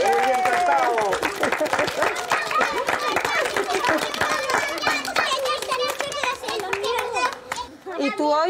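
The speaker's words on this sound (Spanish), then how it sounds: "Vaya guay, aplauso fuerte." At a birthday celebration, a crowd of children claps rapidly and unevenly, mixed with loud excited shouting and chatter throughout.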